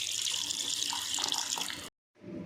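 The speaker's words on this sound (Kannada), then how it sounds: "ಈ ಥರ ಸ್ವಲ್ಪ ರುಬ್ಕೊಂಡು ಆಮೇಲೆ ಸ್ವಲ್ಪ ಜಾಸ್ತಿನೇ ನೀರು ಹಾಕ್ಕೋಬೇಕು" Water pours steadily into a mixer grinder jar while peanut chutney is being ground, a bright, continuous splashing stream that cuts off abruptly and then resumes briefly, with no talk.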